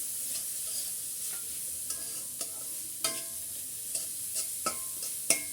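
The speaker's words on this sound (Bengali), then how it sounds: "গাজরটা আমি একটু সেদ্ধ করে নেব" Grated carrot cooking in a pan with spices, a gentle continuous sizzle broken by several sharp spatula taps and scrapes against the pan, close and fairly quiet, with no talking.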